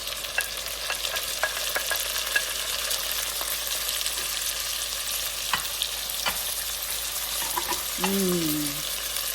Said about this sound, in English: I'm going to put the tomatoes in and the red peppers.